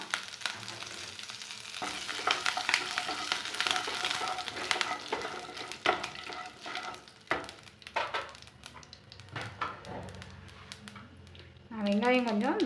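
Mustard seeds spluttering and popping in hot oil in a home kitchen pan, a sustained crackling sizzle with sharp pops; someone speaks quietly over it and a louder stir or clatter comes near the end.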